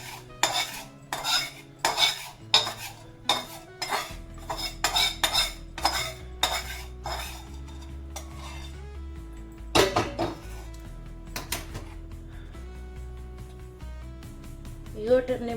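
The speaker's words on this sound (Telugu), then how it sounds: "ఈ వేడి నూనె దీనిలో వేసి కలిపిద్దామండి" A spoon stirs hot oil into green chilli and dry-roasted spice powder for an instant raw mango pickle, with a quick series of loud metallic clinks and scrapes against the bowl, then sparser knocks and a voice speaking under the clatter.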